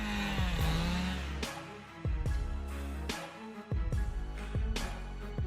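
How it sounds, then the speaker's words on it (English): A chainsaw cuts through a cedar tree, its engine revving up and down in repeated bursts with abrupt pauses, loud and close. "Taking down a one-year-old cedar with a chainsaw is no easy task."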